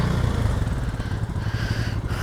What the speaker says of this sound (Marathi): निघाली बाईक.